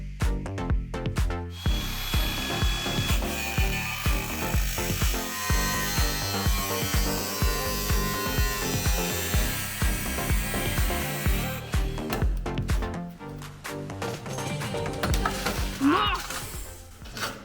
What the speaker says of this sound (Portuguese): o Henrique, o rei da solda, deu a ideia de cortar, mais ou menos daqui pra baixo, e soldar outra lata reta